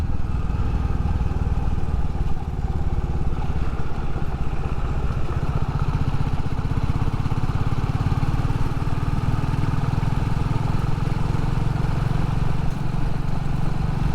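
A Royal Enfield Classic 350 motorcycle rides at a steady 30 to 35 mph down a gravel dirt road, its engine producing a continuous loud thrum along with broadband road and wind noise, with no talking.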